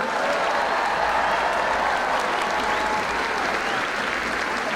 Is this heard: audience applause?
yes